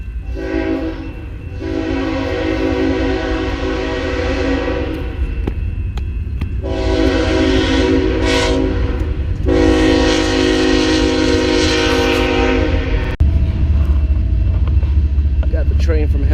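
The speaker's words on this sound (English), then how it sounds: "Got the train from hell back there." A loud train roars past close by, its horn blaring in long repeated blasts over heavy rumbling, continuous throughout with no pauses.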